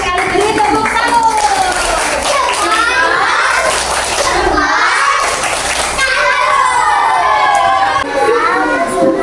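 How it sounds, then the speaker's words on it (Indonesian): A classroom of children chants and claps the rhythmic tepuk salut cheer, many young voices shouting together with patterned hand claps, loud and close throughout. "Beri tepuk salut"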